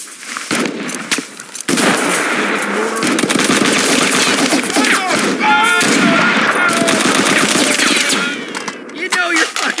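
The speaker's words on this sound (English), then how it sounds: "Open fire!" Machine gun fire from the Mud and Blood video game, sustained and loud, with rapid bursts and overlapping gunshots running almost the whole time and brief game voice sounds mixed in.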